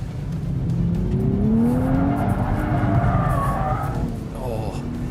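A 2023 Nissan Z, a powerful rear-wheel-drive sports car, power slides after a corner apex. Its engine roars loud and steady while the tires squeal in long rising and falling tones, close to the microphone.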